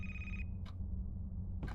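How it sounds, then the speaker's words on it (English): A telephone rings in the video game A Place, Forbidden, with a steady electronic bell tone that cuts off abruptly. Two short bursts follow over a dense low game ambience. "I hear a phone ringing."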